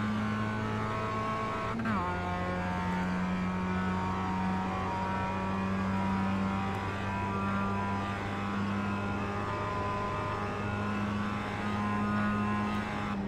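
A Mazda race car's engine in iRacing at Summit Point drones steadily near at high revs, with a quick shift early on and a sustained, even pitch afterward, while a voice talks faintly underneath.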